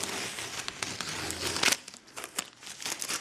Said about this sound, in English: Now you can remove the tape underneath